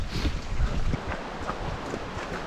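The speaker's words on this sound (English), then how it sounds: "Water's getting louder." A steady broadband rush of water from a nearby waterfall on a woodland trail, a continuous roar with low rumble, fairly close and unbroken, with no one talking.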